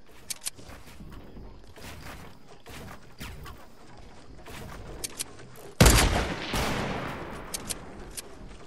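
Fortnite gunfire: scattered sharp shots and short bursts over a quiet game background, with one louder blast partway through followed by a rushing decay and more sporadic shots.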